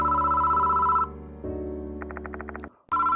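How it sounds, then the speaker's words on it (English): A telephone rings in the horror game Death Mark 2, loud and close: bright repeated bell tones, a stretch of lower droning, a burst of rapid trilling pulses, a brief gap, then the ringing resumes. "Why is the phone ringing now?"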